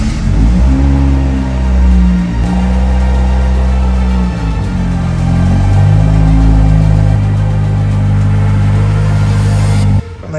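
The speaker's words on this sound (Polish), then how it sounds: "najwyższa pora może go odpalić," A Lancia Delta Integrale Evo2 engine rumbles loudly up close, its revs rising and falling in several swells before cutting off abruptly near the end.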